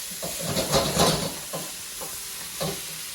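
White onions and peas stir-frying in a pan for fried rice, a close hiss and sizzle that swells in bursts as the mix is stirred, then settles to a softer crackle, no voices.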